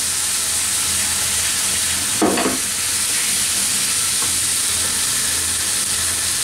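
Thai beef stir-frying over high heat in a restaurant-style pan with Maggi sauce, a loud constant sizzle and hiss with one brief burst of scraping around the middle, no speech.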